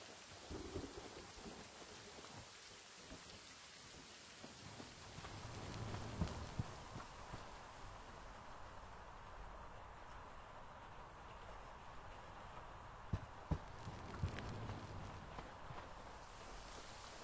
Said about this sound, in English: In this first one you can see the difference between rain outside and inside buildings.